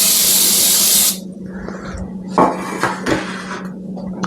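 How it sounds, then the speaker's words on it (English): Cooking spray hisses onto a bread loaf pan in a steady, close burst lasting about a second, followed by light clinks and knocks of the pan being handled. "So the seam should be on the bottom of the pan, which we're going to spray right now."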